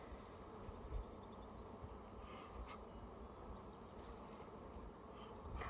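Agitated honeybees swarm around a backyard hive, a dense continuous buzz with individual bees droning past nearby, faint overall and without speech.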